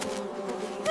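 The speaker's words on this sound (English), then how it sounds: "The bees!" A cartoon bee swarm buzzes in a loud, continuous droning hum that stays steady throughout and swells slightly at the end.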